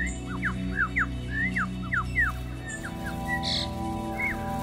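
A male bird with 71-centimeter tail feathers sings a run of rapid, squawky whistled calls in quick bursts, loud and close, then a few sparser notes against a steady low background hum.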